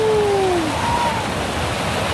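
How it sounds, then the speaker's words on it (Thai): Steady rushing water of the Tat Ton waterfall in Chaiyaphum fills the air as a dense, loud, even roar, with a faint whistle-like tone drifting over it briefly. "วันนี้ได้มาเล่นน้ำตกนะครับได้มาเล่นน้ำตกจริงๆจัง ๆ"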